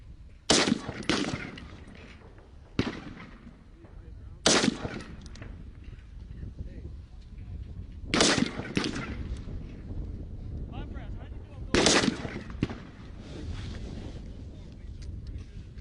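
Gunshots ring out during shooting training, with several sharp, loud reports spaced a few seconds apart over wind noise and background rumble.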